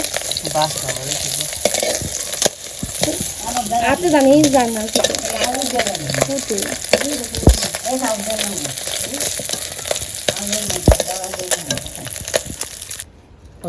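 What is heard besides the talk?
fish frying in a pan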